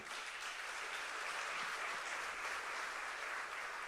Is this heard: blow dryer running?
no